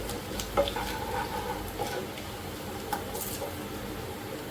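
Onions sautéing in a pan for a Madurai-style coconut-free thanni chutney, with a steady soft sizzle and occasional spoon scrapes and clinks, fairly close and without talk.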